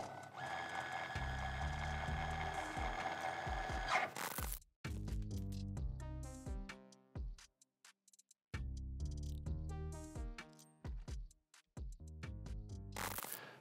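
A multi-step power tool tightening cycle in a lab: a loud mechanical whirring with a brief reverse step, then a rundown and final tightening, broken by short pauses and restarts, with no talking.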